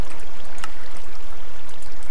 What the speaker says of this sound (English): you're going to place a block of water there and a block of water there, and that'll push the mobs in